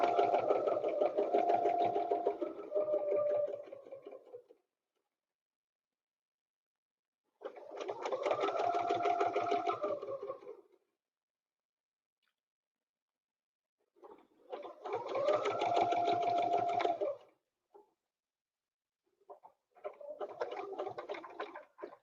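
A home sewing machine runs in three bursts of several seconds each, with pauses in between. A shorter, uneven burst follows, where the machine jams. No one speaks.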